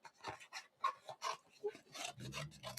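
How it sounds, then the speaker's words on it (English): Paper being trimmed for handmade card making, a series of short rasping strokes in quick succession, close and fairly soft, each cut a brief scratchy burst. "let me just trim a piece"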